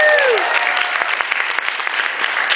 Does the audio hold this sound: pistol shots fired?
no